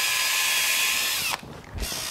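A power drill spins a rotor brush through beef cattle hair, a steady high whine that cuts out briefly, then starts again, close and loud.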